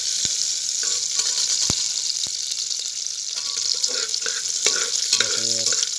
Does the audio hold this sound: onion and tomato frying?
yes